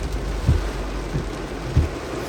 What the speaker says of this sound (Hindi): बारिश बड़ी तो तेज बारिश हो गई है